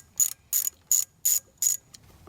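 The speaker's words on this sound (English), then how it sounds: "So let me get these ones loosened up." A ratchet on an extension clicks through five evenly spaced, crisp strokes as it loosens a driveshaft bolt on a 500 HP Corvette. The metallic clicking is close by and heard alone.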